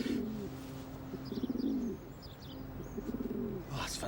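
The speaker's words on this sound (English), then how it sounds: "See that pigeon?" Pigeon cooing outdoors, two rounds of soft throaty rolling coos with a pause between, faint chirps above and low background hum.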